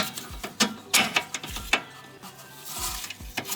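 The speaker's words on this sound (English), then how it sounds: "hold your wrench still and twist your ratchet" A ratchet clicks while it turns a control arm bolt on a 2022 Honda Civic Si, in short irregular bursts of ratcheting with soft metallic knocks, fairly quiet and close.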